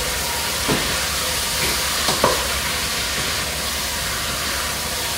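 Fish sizzling in a pan with cumin, ginger, garlic and other spices, stirred with a few distinct scrapes against a steady frying hiss, close by and with no talking.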